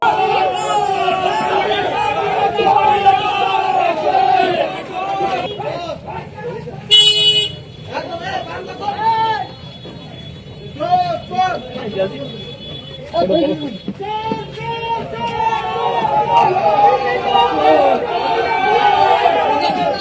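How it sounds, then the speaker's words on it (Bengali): Villagers chant slogans and shout at two arrested TMC leaders in Raniganj as a noisy crowd presses around, with car horns tooting and vehicle noise mixing into the continuous chatter. "গ্রামবাসীরা তৃণমূলের ওই দুই নেতাকে দেখা মাত্রই আজ চোর চোর বলে স্লোগান তোলে"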